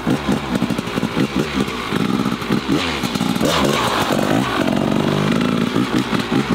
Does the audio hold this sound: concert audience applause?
no